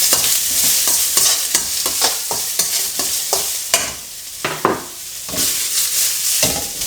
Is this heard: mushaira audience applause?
no